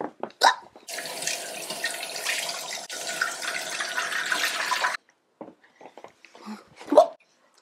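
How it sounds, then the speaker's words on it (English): Tap water runs steadily for about four seconds to wet a makeup sponge, a broad close hiss at a bathroom sink, framed by brief handling knocks and quiet clatter before and after. "I gotta go wet my sponge."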